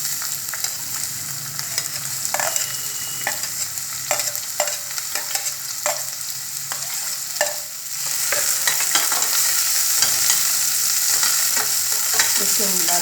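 Mixed vegetables sizzle steadily in a hot pan for a restaurant-style veg frankie, with a spatula scraping and clicking at intervals; the frying hiss grows louder and fuller partway through, and no one speaks.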